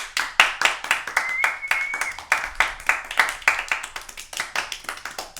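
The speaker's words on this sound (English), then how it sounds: "Everyone keep applauding for Atlas." An open mic comedy audience claps steadily in dense, rhythmic bursts of applause that hold for several seconds, with a brief whoop rising over the hands.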